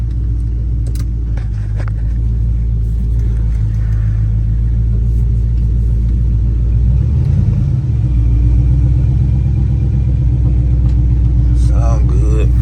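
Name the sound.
1971 Chevelle engine running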